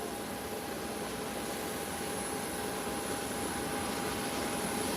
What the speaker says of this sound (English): the other United is heading on the runway for departure